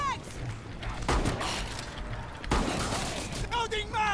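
Gunfire in Rainbow Six Siege Outbreak mode on Pandemic difficulty, with two sharp bursts of shots standing out over game noise and bright electronic tones, as a voice talks intermittently.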